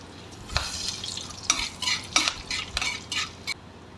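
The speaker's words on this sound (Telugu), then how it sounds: "మూకుడు పెట్టుకుని పోపు దినుసులన్నీ వేసి బాగా కలుపుకోవాలి" Whole spices tempering in a hot kadai on a stove for a ridge gourd curry, heard as intermittent scraping stir strokes and soft sizzling, about half a dozen close bursts with quiet gaps, no talking.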